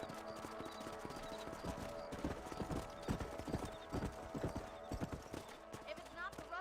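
Horse hooves clip-clop in steady rhythm in the Red Dead Redemption video game, a close, continuous walking gait with an occasional whinny, playing under quiet in-game talk.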